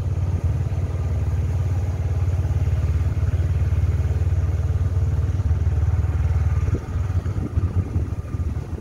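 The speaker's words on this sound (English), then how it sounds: "riding a motorbike around Patong Beach" A motorbike engine drones steadily and close while riding around Patong Beach, Phuket, Thailand, a low buzzing rumble that holds for several seconds before easing and sputtering near the end.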